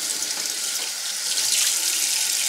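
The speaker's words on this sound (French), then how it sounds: "On va passer un petit coup d'eau quand même" A steady hiss of tap water runs continuously at close range while a laptop motherboard from a Sony VAIO is rinsed under it, with slight splashing variation throughout.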